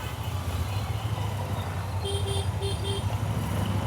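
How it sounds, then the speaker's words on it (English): A Royal Enfield Interceptor 650 motorcycle engine idles with a low steady rumble, heard close over continuous road and wind noise, with a few short high beeps partway through. "let me just open my visor and see how does this motorcycle sound"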